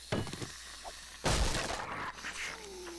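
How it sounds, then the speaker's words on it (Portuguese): A zombie bangs on a structure in 7 Days to Die Alpha 13.6, heard as a few dull thuds followed by one loud crashing, splintering impact against a low background hum. "Tem um zumbi batendo também, eu não sei aonde"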